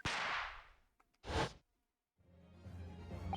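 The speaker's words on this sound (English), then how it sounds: "A noise that sounds like a gunshot could have been made with a firecracker." A firecracker in The Great Ace Attorney Chronicles video game: a sharp, loud crack bursts out, then a second short bang follows after a brief pause, and a fainter rumbling tail trails off at the end.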